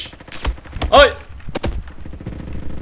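MP5 gunfire in the Roblox shooter Frontlines, several sharp separate shots in quick succession over a steady game background, with a person talking throughout.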